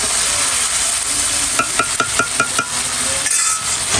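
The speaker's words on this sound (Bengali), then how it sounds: "ঝোল দিয়ে হালকা কষাচ্ছি" Curry being sautéed with broth in a pan, a steady close sizzle with a quick series of spoon-against-pan clinks as it is stirred, no talking.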